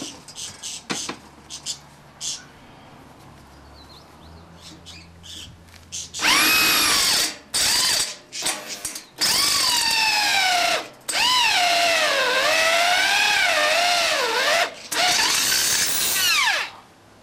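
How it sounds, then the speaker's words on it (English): Drilled holes countersunk to take off sharp edges, with a power tool whining loudly in several bursts of rising and falling pitch after quieter handling noises at the start. "taking off the sharp edges using the countersink"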